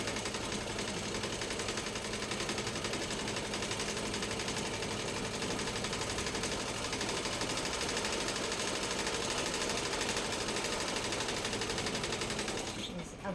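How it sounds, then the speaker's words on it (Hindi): A domestic sewing machine stitches the panels of a salwar together, running in one steady, loud, close whir for about twelve seconds before stopping abruptly near the end. "देखो मैं इसकी कर रही हूँ सिलाई।"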